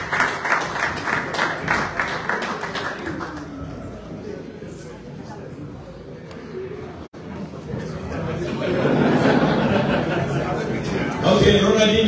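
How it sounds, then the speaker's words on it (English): A crowd gathered to welcome Barcelona legends led by Ronaldinho in Zambia claps and chatters, with applause strongest at the start, thinning in the middle, then rising again with voices talking over it. "I think we need a round of applause"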